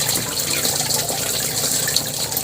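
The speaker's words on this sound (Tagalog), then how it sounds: "hugasan natin yung malunggay." Moringa leaves rinsed under a steady stream of running tap water, a loud continuous splashing gush filling the whole clip with no talking.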